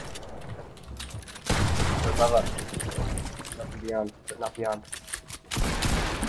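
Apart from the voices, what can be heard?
gunfire from enemy team in a video game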